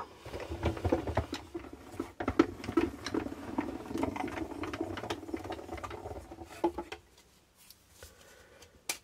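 A die-cutting machine cuts a paper circle for a greeting card, giving a soft, close rolling and crunching patter for several seconds before it fades to quiet handling noises.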